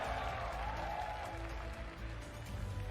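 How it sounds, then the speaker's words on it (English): An audience applauds a PUBG Mobile esports team, the Indian Tigers, at a live event, a steady wash of clapping that is faint and distant. "Please give them a huge round of applause, everybody."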